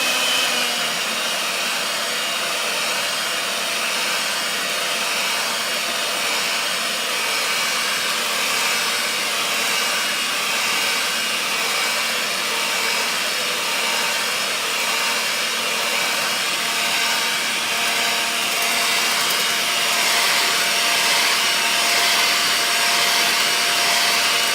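An electric mixer beats peanut butter batter in one steady, continuous whir that holds for the whole stretch, with no speech over it.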